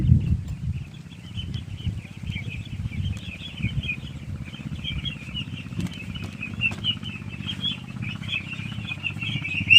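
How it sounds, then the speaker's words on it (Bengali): Many ducklings peep continuously, a dense chorus of high, thin calls over a low background rumble. "এখানে হাঁসের অনেক বাচ্চাও রয়েছে।"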